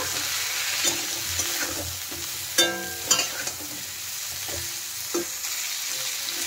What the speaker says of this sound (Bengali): ফুলকপিগুলো ভাজা হয়ে গেছে, ভালো করে আমি ভেজে নিয়েছি ফুলকপিগুলো